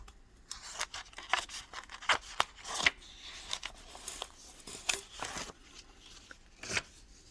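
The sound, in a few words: paper being pulled out from behind glass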